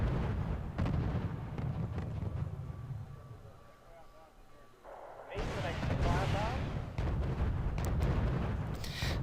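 Artillery bombardment rumbles through the Bruder gegen Bruder mission at Flugplatz Allstedt, with repeated heavy booms and sharp cracks, a loud surge of blasts in the second half, and someone talking over much of it.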